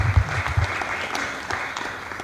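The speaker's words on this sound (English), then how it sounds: "Another round of applause for the chairperson" An audience at a People's Restorative Justice rally in Kenya claps for the chairperson, producing a brief, moderately loud spatter of applause with a few sharp claps near the start that thins out toward the end.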